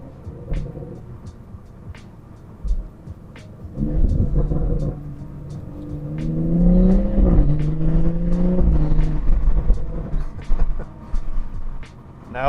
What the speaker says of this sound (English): Now that 3-2 downshift is a little harsh.